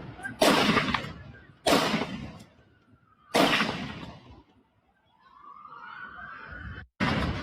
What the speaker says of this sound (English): this is a close-up of the gunman firing and then reloading